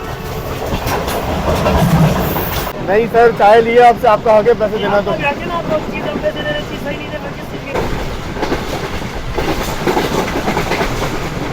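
The Karakoram Express of Pakistan Railways rolls along the rails on a winter journey in economy class, a steady rumble with clickety-clack rhythm running throughout beneath close conversation.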